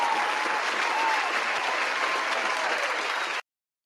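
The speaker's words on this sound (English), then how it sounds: "I still want to give a hand clap." A studio audience claps in a steady, dense burst of applause that holds at an even level for over three seconds, then stops abruptly.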